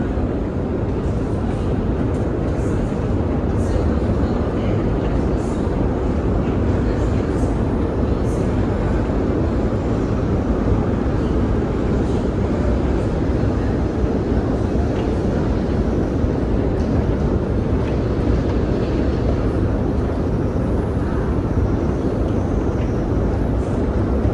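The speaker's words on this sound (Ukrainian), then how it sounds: "там теж прийшов зараз потяг, ось люди виходять" A metro train pulls into Arsenalna station in Kyiv, a deep underground station, filling the space with a loud, steady rumble and roar that holds for the whole stretch, with faint voices beneath.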